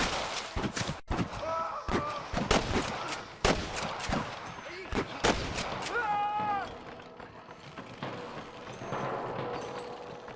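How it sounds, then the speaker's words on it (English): Rapid bursts of gunfire from Red Dead Redemption crack out in loose volleys, loud and close, with a voice shouting briefly partway through. "I can hear more gunshots."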